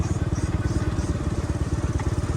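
A Royal Enfield Bullet motorcycle engine thumps with a steady, rapid pulsing beat, loud and close, running continuously throughout.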